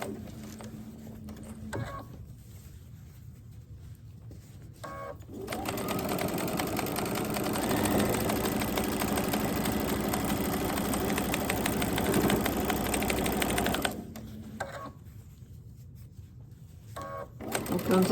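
A sewing machine hums in one long, steady run stitching a fabric door hanger from the corner, close and even, with quieter handling sounds before and after.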